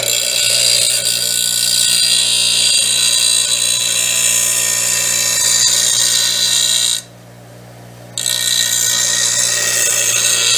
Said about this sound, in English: Using the wire wheel to just clean up the blade really quick.